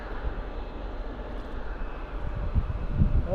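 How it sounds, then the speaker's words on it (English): A Boeing 777 from London approaching to land at Toronto Pearson airport, a steady, heavy jet engine roar under haze that swells slightly toward the end, with a few low wind thumps and no talk. "Oh, we got a plane coming in, folks."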